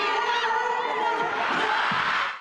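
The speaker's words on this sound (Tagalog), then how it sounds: "Pagpasok pa lang, hiyawan agad ang sinalubong ng fans ni na ex-PBB housemates Will Ashley at Bianca De Vera" Fans scream and cheer loudly and continuously at a Filipino fan meet for ex-PBB housemates Will Ashley and Bianca De Vera, a dense wall of high-pitched shrieks with no break.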